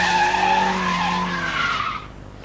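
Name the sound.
BMW 318i rear-wheel drive car sliding, tyres skidding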